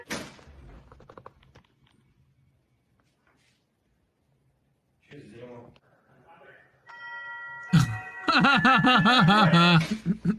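A two-tone electronic Ring doorbell chime rings out near the end, followed by an excited voice; quiet faint sounds and brief talk come before it.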